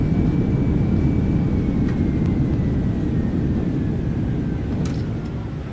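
Reverse thrust roars on an Airbus A320 landing in a flight simulator, a loud, steady, broadband rumble that slowly eases off toward the end, with a faint whine running through it.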